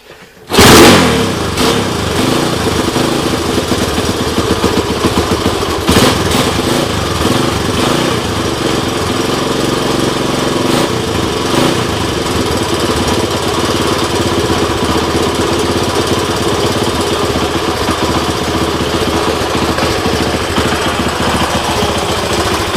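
A 1983 Honda ATC 200X three-wheeler, choke on, cold-starts on one kick with a sharp loud catch, then settles into a loud steady, rattly single-cylinder idle that runs without a break.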